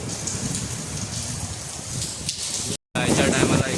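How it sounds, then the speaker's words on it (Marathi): Heavy rain pours down in Ambernath as a dense, loud, continuous hiss and patter close by, broken only by a split-second dropout near the end. "याच्या टायमाला एकदम पाऊस आलाय."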